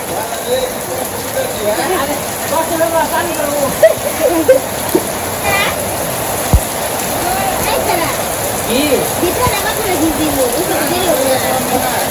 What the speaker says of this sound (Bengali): খুবই বৃষ্টি নামছে আজকে বৃষ্টির মধ্যে মুরগি কাটতামছি